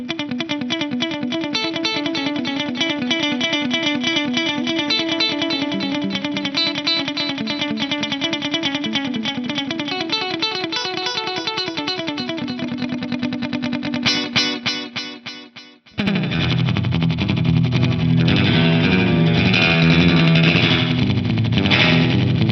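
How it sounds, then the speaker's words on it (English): An electric guitar plays through BOSS effects with drive and a 300 ms delay, repeating distorted notes that echo in a steady rhythm, then a brief drop before a brighter, percussive delayed passage takes over. "300 milliseconds of delay. This one has a much brighter percussive character."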